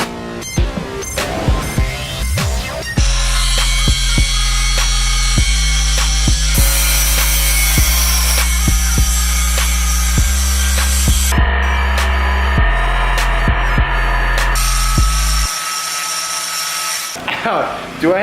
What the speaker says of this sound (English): They got angle grinders here, Jordan? Yeah, dude, we got one angle grinder here